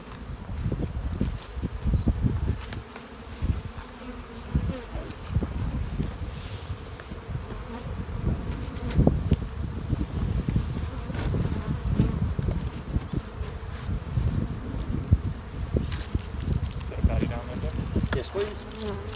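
Honey bees buzz around an open hive during spring brood chamber work, a dense, continuous hum of many insects close by with shifting swells, while people speak quietly in the background.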